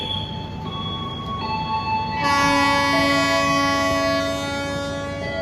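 A departing KA Turangga train at Tasikmalaya station sounds a long, steady horn blast that swells louder partway through, over the low rumble of the rail cars.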